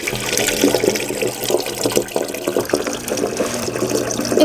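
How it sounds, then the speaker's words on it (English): Water from a 5-gallon jug pours into a boat's 110-gallon water tank, a continuous loud splashing gush that runs without a break. "So we're using our water jug to put some water in our water tank."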